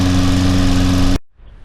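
A 2014 Toro Recycler Personal Pace lawn mower engine roars loudly and steadily up close, then cuts off abruptly, leaving quiet background noise.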